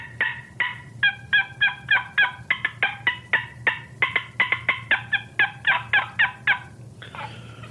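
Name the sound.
box turkey call imitating hen turkey cuts and yelps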